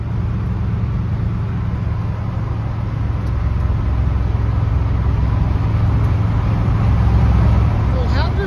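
A 1965 Dodge car cruises along an open country road on a cold day, its engine droning steadily under road and wind noise from inside the cabin, with a brief higher sound near the end.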